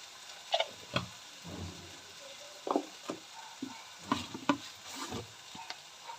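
Cumin and chili powder with a little sugar being stirred and sautéed for a catla fish head curry: quiet, irregular scrapes and soft frying taps from the pan, close by and with no talk.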